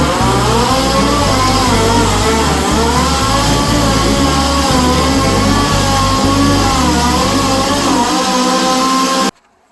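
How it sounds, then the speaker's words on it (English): A chainsaw being tried out on wood, its engine droning loud and steady with regular pulsing from near, then cutting off abruptly into silence at the end. "so of course I let him try his chainsaw out on the wood to try to cut it up"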